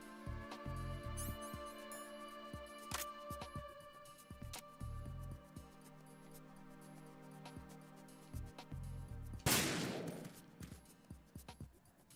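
Video game gunfire aimed at melons: several sharp shots spread across the stretch with a burst near the end, heard under steady game music.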